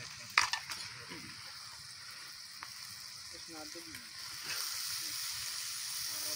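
Onions sizzle softly in a pan for a keema dish while a utensil scrapes and stirs through them, a few sharp clinks at the start and a steadier, slightly louder fry building near the end.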